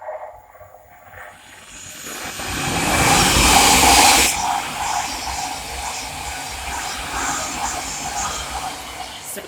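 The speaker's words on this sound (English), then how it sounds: "the next train to pass by is the Thameslink 700 from Horsham to Peterborough" A Thameslink Class 700 electric train runs past at Welham Green on the East Coast Main Line, rising from a distant rumble to a loud, hissing rush near the middle, then settling into a steady rolling clatter as the carriages go by.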